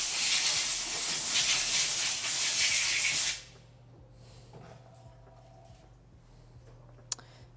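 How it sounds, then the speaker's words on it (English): Air compressor on a repair bench releasing a loud steady hiss of air for a few seconds, then cutting off to a quiet room with a low hum and a single sharp click. "He's got the air compressor going"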